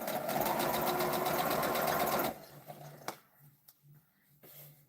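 A home sewing machine runs steadily and loud for about two seconds, then stops, leaving quieter handling noises and a few light knocks.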